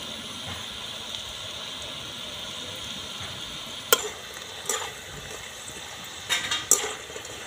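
Homemade kurkure snacks deep-frying in hot oil, a soft steady bubbling hiss broken by a few sharp clicks and scrapes of stirring toward the end.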